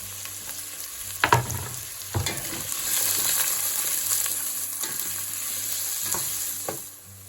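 Carrots, celery and onion sizzle and fry in a pan, a steady soft crackling hiss with a few sharp stirring clatters and scrapes along the way.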